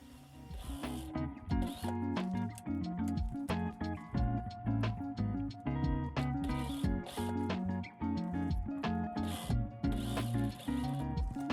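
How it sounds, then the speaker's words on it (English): A sewing machine chain stitching a tote bag runs in a steady, loud mechanical clatter for the whole stretch, with brief pauses and restarts, no voices. "I am doing a chain stitching here."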